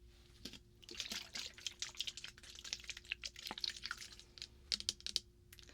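A plastic water bottle is handled close to the microphone for ASMR, producing a run of quick, light crinkles, taps and clicks in an irregular patter, quiet and intimate with no talking.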